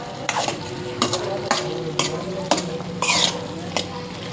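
Food is stirred and mixed in a hot oily frying pan in a home kitchen: repeated scraping strokes over steady sizzling frying, close and fairly loud with regular rhythm.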